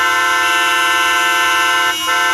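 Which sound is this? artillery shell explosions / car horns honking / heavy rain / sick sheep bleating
car horns honking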